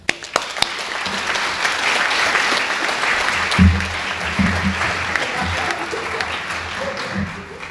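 A library birthday party audience claps steadily for a mayor's welcome, a dense wash of applause lasting several seconds with a few louder claps at the start, then fading out.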